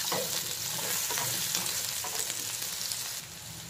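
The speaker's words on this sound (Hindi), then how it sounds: "तो अभी हम आलू डाल देंगे और डालेंगे गाजर। तो दोनों को अच्छे से हम फ्राई कर लेंगे।" Potatoes and carrots fry in a pan for a Kolhapuri mixed vegetable dish, a dense, steady, fairly loud sizzle with light stirring scrapes throughout and no speech.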